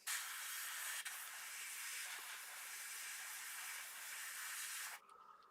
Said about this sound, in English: I'm just going to spray that white